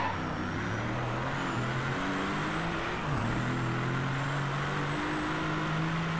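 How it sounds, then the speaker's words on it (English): A racing car engine in the video game DRIVECLUB roars steadily with shifting pitch as it revs and changes gears, loud and continuous. "This car sounds amazing."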